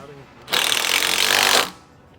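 A Milwaukee power tool runs in one steady, loud burst of about a second, with a sharp start and stop, while a Ranch Armor headache rack is installed on a Can-Am Defender bed.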